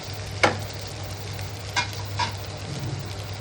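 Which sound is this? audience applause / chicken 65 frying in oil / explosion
chicken 65 frying in oil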